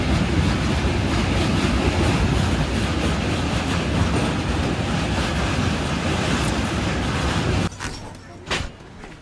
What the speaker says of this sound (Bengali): এই যে দেখতে পাচ্ছেন আমাদের ব্ল্যাক ডায়মন্ড এক্সপ্রেস এখন কুমারডুবি স্টেশন ছেড়ে এখন বেরিয়ে গেল